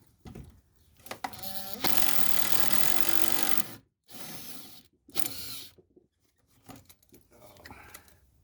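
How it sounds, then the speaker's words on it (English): A power tool whirs in loud bursts with stops in between, with mechanical clattering and rattling as it removes a rusty 10mm bolt while replacing a 2012 Toyota Highlander's starter. "when you use power tool to remove the bolts and it's rusty in there"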